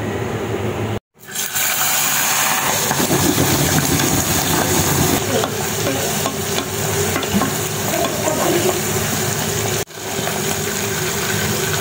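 Salted chicken gizzards frying loudly in a pan, a dense crackling sizzle that cuts out briefly twice before resuming at full strength, with no voices.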